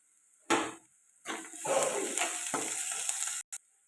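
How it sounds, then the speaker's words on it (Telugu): Onions frying with curry leaves for a chicken curry, a steady close sizzle that starts with a burst as the leaves drop into the hot oil, with stirring scrapes running through it. "ఇది కలుపుకొని బాగా ఫ్రై చేసుకోవాలి ఇప్పుడు ఇందులోకి వచ్చేసి కరివేపాకు వేసుకుందాం"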